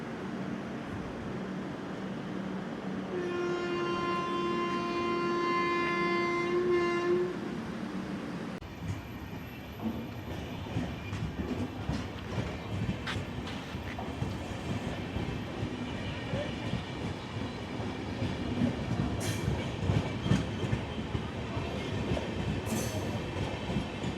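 Chennai Mail train passes on the adjacent line at Pithapuram railway station, a long continuous rumble and rhythmic clatter of wheels over rail joints, opening with a steady horn tone, loud and close throughout.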